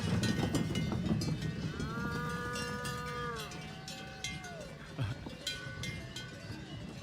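Cows moo in the Alps amid clanking cowbells, with a drawn-out low moo overlapping a second call in the middle, bells rattling irregularly throughout at moderate distance.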